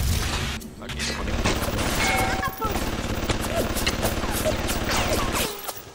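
An automated turret in BioShock lets off rapid bursts of gunfire mixed with booms and crashing combat noise, loud and near, with voices talking through the chaos.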